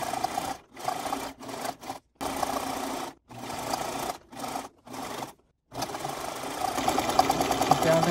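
Sewing machine zigzag stitching a fabric face mask, close whirring bursts that start and stop repeatedly with short pauses, ending in a longer continuous run.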